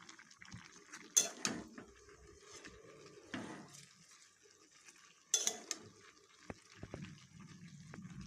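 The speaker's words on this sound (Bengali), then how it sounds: "ওটা ভালো মতন নাড়াচাড়া করে নিয়েছি" Beef is stirred in a cooking pot, with faint scraping and a few sharp clanks of the spoon against the metal amid quiet wet movement.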